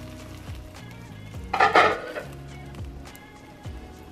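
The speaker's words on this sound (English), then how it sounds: "we are going to take the lid off" A lid lifted off a crockpot with a single short clattering clink of lid against pot, close by amid quiet kitchen hum.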